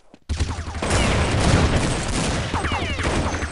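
Gunfire rattles in Counter-Strike on the de_nuke map, a loud, dense burst of rapid automatic shots that keeps going for several seconds after a brief quiet start.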